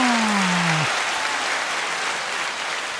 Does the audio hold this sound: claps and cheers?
yes